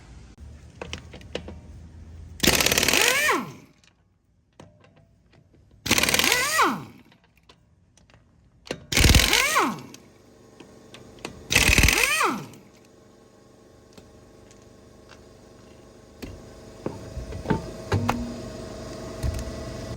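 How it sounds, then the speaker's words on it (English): Four loud, separate bursts from an impact wrench spin 17 mm lug nuts off the front wheel of a jacked-up 2013 Mini Cooper S, each lasting about a second with short pauses between them and faint garage noise in the background. "Got it jacked up right there, so now we're ready to take the wheel off. These are 17 millimeter."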